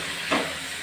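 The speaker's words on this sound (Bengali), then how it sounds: "মাংসটা ভাজা হচ্ছে" Chicken fries in a pan with curd, garlic, onion, chilli and turmeric, giving a brief, soft, steady sizzling hiss with a faint stir partway through.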